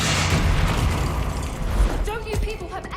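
Bombarda spell explosion in the Hogwarts Legacy video game: a loud, continuous booming blast with rumbling debris and crackle across the clip, fading into lighter magical whooshes near the end.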